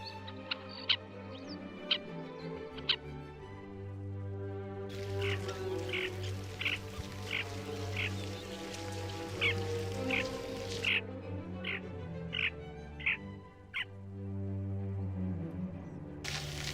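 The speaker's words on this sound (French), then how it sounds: "Le lac Mīvatne accueille chaque année 55 espèces d'oiseaux migrateurs." Migratory ducks and other birds at Lake Mývatn, Iceland, heard as repeated short calls and quacks over a steady low hum of wind or water, mid-distance, with a burst of denser broadband noise through the middle.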